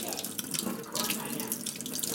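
Tap water runs steadily into a sink, a continuous close splashing rush with brief bursts, heard alone without talk.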